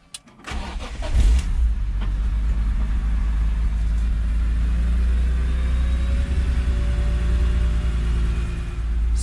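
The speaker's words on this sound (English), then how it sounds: "Now it's asking me to start the engine." A BMW E46 M3 with SMG gearbox, fresh from a clutch, flywheel and actuator replacement, cranks briefly and fires up, then settles into a loud, steady idle close by with no talk.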